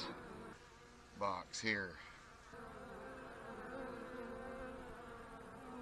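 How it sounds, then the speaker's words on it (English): Honey bees fly around a hive box in cold, wet, winter-like weather, a faint, steady insect hum under a brief spoken remark. "We have some bees out flying, but not like they should be."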